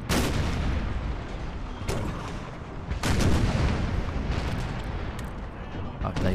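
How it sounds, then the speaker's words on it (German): Ship cannons booming during a Total War naval battle, several heavy shots scattered over a constant rumble of battle noise, with someone talking over them. "Fliegt nur wieder Kanonenschüsse raus"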